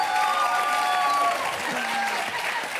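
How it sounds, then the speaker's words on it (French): A TV studio audience bursts into steady, dense applause, loud and sustained throughout, with a few faint tonal sounds over the clapping. "On l'applaudit très très fort."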